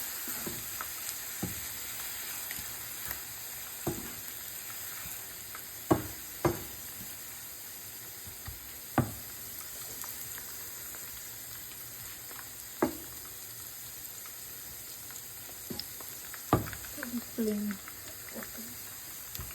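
Stuffed bitter gourds (karela) frying in a pan over a slow flame, giving a steady soft sizzle with occasional light knocks and clicks from stirring. Faint speech is heard now and then.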